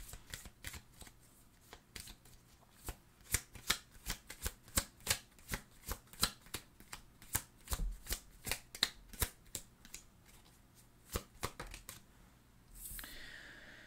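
Tarot cards are shuffled with a long run of quick, crisp riffling snaps at an uneven rhythm, close up and alone, ending with a softer brushing rustle as a card is drawn.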